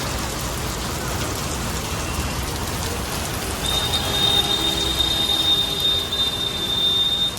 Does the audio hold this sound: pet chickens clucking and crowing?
no